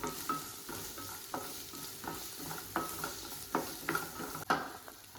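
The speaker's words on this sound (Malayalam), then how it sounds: "എന്നിട്ട് നന്നായിട്ടൊന്ന് ഇളക്കി കൊടുക്കാം ചെറുതായിട്ടൊന്ന് വാടി വരണം" Onion, garlic and ginger fry with a soft sizzle in a pan while a spoon stirs, scraping in a series of distinct strokes at an irregular rhythm, close by with no talk.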